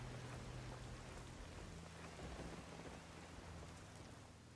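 Steady night rainfall in the video game Ghost Recon Wildlands, a dense continuous hiss of rain on surfaces with a low rumble underneath, holding at an even level throughout with no voices.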